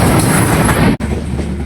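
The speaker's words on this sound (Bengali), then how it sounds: "দেখেন ট্রেন চলে এসছে।" A train rolls onto a railway bridge in Darjeeling, its loud, steady rumble and rattle filling the clip, with a brief dropout partway through before the noise continues.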